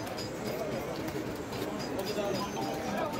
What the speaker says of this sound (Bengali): লাখ লাখ পায়রা, এখানে প্রচুর পায়রা।